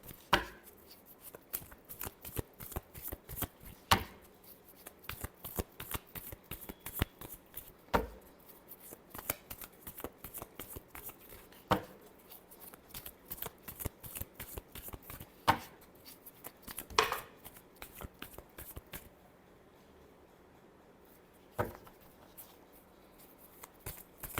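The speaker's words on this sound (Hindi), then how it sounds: "चलिए देखते हैं लास्ट शफल।" Tarot cards are shuffled by hand in quick bursts of soft riffling flutters and taps, close and quiet, with brief pauses between runs and a calmer stretch near the end.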